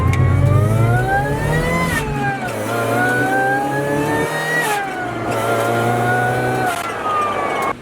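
A lifted Mazda Miata's engine revs hard and loud on a rally course, its pitch climbing and dropping several times as it accelerates and eases off, close by.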